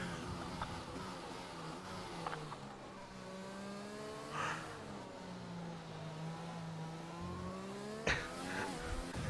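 A Formula 1 race car engine in a racing video game at the Mexico round, a steady high whine with rising and falling pitch sweeps as the car shifts and runs on, heard alone and fairly quiet, with brief sharp clicks.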